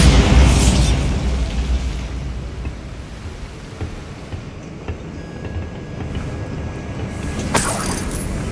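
A Bombarda blast spell goes off in the game Hogwarts Legacy: a loud, booming burst at the start that settles into a rumbling, crackling wash, with a second sharp burst near the end.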